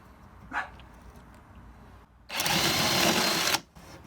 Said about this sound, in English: we'll drill out the other side to meet up